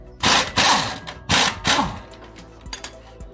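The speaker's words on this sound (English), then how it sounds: "Now you wanna remove the bottom sway bar and links, the one that connects to the axle." Ratchet wrench with an 18 mm socket loosening the lower sway bar link bolt at the axle of a lifted Jeep Wrangler: four loud, close bursts of rapid clicking, then a few quieter, scattered clicks.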